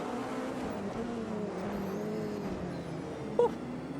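A Porsche race car engine drones steadily through the Monaco street circuit in a racing video game, a continuous mid-distance whine holding pitch with a brief sharper blip near the end.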